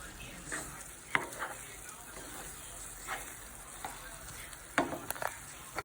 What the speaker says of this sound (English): you're going to stir that in until the egg is fully cooked